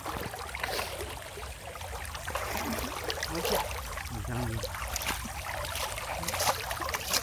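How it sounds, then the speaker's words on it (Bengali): Ganges floodwater rushes into Birnagar with a broad, steady wash of churning water noise, moderately loud and constant, with a few faint splashes and knocks and no talking. "এই জলের আওয়াজ এই দিকে এত জল হইলে আর অন্যদিকে কত জল হবে বুঝতে পারছেন"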